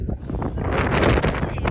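Strong gusting wind at Marble Canyon, Arizona, near the Colorado River, buffets the microphone, a loud, rumbling roar that rises and falls with no voices.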